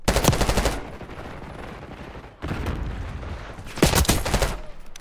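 Rapid gunfire in Call of Duty: Black Ops 6, loud automatic bursts of shots in several clusters separated by brief lulls of lower-level game noise.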